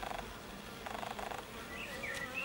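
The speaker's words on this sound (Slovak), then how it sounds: "aj tieto včely, ktoré sa tu nachádzajú v školskom areáli 3. základnej školy, sú včely rodu Karnika" Carniolan honey bees buzzing at a hive on a school grounds, a soft, steady drone with faint wingbeat hum and higher chirping tones near the end, alone without voices.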